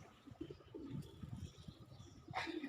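Pigeons coo softly and faintly in a low, throaty murmur, with a brief flutter near the end.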